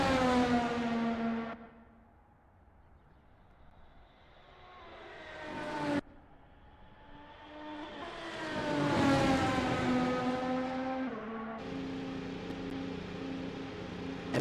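Race cars at the Red Bull Ring cross the finish line, their engines rising in pitch as each one passes, then fading. Several loud fly-bys follow one another with short gaps, and there is no talk.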